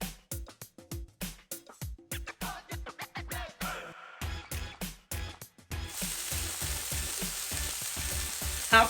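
Chopped onion dropped into butter in a frying pan for vegetable noodles. A run of sharp, evenly spaced knocks comes first, then a sudden loud, steady sizzle fills the rest.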